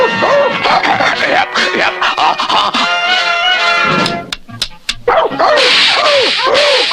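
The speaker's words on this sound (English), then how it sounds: "Mush dogs!" Several sled dogs bark and yip excitedly over loud, busy cartoon-style music and effects, with sharp whip-like cracks in the middle.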